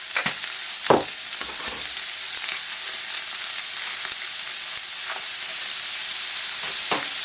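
Onions sweating with salt in a pan for a pumpkin and chicken lasagna: a continuous bright sizzle close by, with a few soft stirring knocks early and near the end, no talking.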